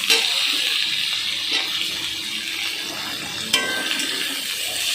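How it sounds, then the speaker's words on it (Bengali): Chopped onion and tomato go into garlic frying in a pan, producing a steady close hiss of sizzling with a faint stirring scrape and one sharp clink. "রসুনটা একটু নাড়াচাড়া করার পরে আমি পেঁয়াজ কুচানোটা দিয়ে দিচ্ছি আর দিয়ে দিচ্ছি টমেটো কোচানো"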